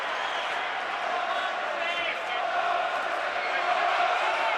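A boxing crowd made up mostly of Watson fans roars steadily behind the London fighter during the fifth round of the 1991 Eubank v Watson bout, a dense, sustained wall of cheering with a voice talking over it.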